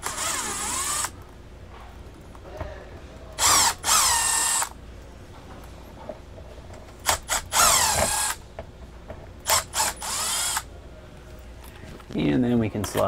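A cordless power drill removes the base screws of a Valterra RV ceiling vent, several whirring bursts of a few seconds each at close range, with a person talking between and over them.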